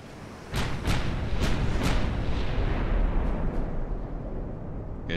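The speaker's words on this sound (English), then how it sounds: "I'm gonna make sure both of these guns should be able to fire" Naval gunfire from a warship's main guns in Ultimate Admiral: Dreadnoughts, a dense, rumbling barrage of deep booms with several sharp reports standing out early, loud and continuous with no talk.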